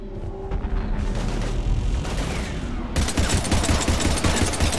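Dense automatic gunfire in the Mass Effect video game, rapid bursts crackling close and loud over low booms, the firing growing heavier and more continuous halfway through.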